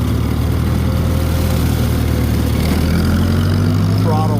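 A lawn mower engine runs steadily with a constant low drone while the mower is tipped up at a steep angle for an initial cut near a creek, and a voice talks over it.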